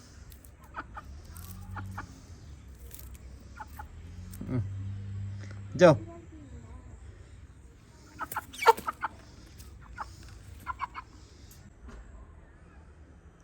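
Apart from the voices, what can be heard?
chickens clucking after being released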